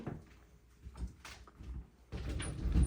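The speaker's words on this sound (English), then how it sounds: "So as I open this door, and he hears that" An indoor door opens with a few soft knocks and shuffles, then a louder rumbling slide near the end, close by and fairly quiet.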